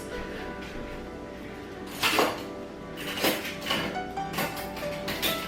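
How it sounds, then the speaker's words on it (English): Spoons grabbed from a kitchen while cooking jerk chicken, clinking against pots and other kitchenware in a few sharp metallic bursts over a steady background hum, close by and with no talking. "let me go grab another spoon to put that in"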